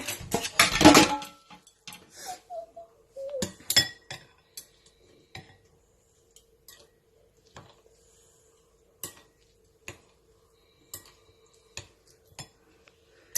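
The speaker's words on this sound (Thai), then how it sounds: "เทใส่ถ้วย แล้วก็เอาไม้ตะเกียบคนๆเทลงหมดเลยค่ะ" Chopsticks stir spicy Korean instant noodles in a bowl, making scattered clinks and taps against the dish. A loud cluster of clatter comes first, then lighter, sparser ticks spread out over about thirteen quiet seconds.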